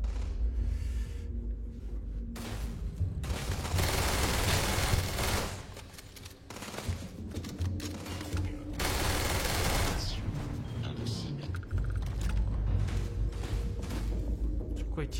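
Bursts of automatic gunfire in a video game crackle in long rapid volleys with a short gap between them, loud and close, mixed with game noise.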